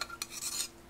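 Utensil scraping a bowl of Nongshim Baehongdong bibim noodles: quiet, close, repeated rasping strokes in short bursts with no talking.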